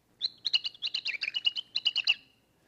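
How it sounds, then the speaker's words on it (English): Mouse ultrasonic vocalizations pitched down into human hearing range, forming a rapid run of about fifteen high, bird-like chirps over two seconds, fairly loud and alone. "mice have these ultrasonic vocalizations that when pitched down to our human hearing range sound like this"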